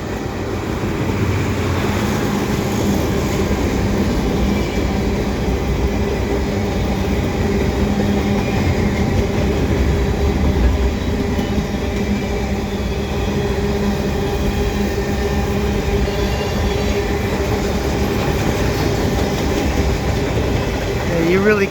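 A CN westbound fast freight train, including Government of Canada hopper cars, rolls steadily past at Dorval, its loud continuous rumble and rhythmic wheel clatter filling the whole stretch up close.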